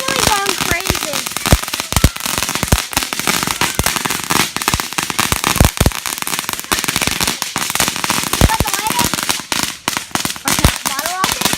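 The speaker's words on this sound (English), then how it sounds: "Bottle rocket? Yeah. Bottle rocket." Bottle rocket fireworks going off in a dense, continuous barrage of sharp crackles and pops, loud and close, with excited voices mixed in throughout.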